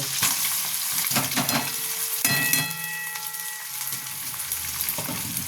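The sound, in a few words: stirring flattened rice with green chillies in a frying pan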